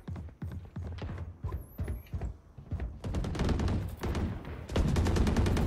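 Sharp gunshots from the video game Valorant come in quick succession, first spaced apart and then in a denser rapid volley near the end, loud and close.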